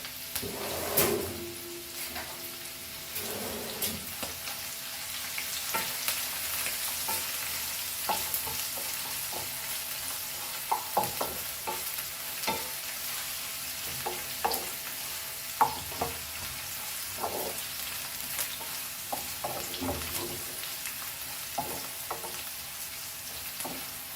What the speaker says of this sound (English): Fry it nicely, and now we will add our capsicum also to this